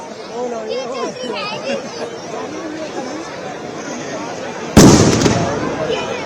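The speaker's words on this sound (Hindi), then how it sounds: "रावण दहन हो चुका है पटाखों के जरिए।" Crowd chatter and cheering murmur throughout at a Dussehra Ravan effigy burning in Delhi amid heavy rain, then a sudden loud burst of crackling firecracker explosions erupts near the end and keeps popping.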